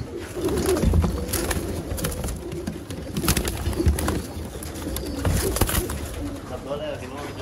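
Sialkoti pigeons coo repeatedly in soft, throaty bursts close by, mixed with clattering, rustling and handling noises while people talk in the background.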